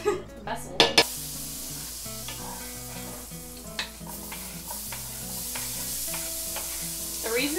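Onions sizzle in Becel margarine in a pan while a utensil stirs and scrapes through them, with a few sharp clatters of cookware at the start and a steady close frying hiss throughout.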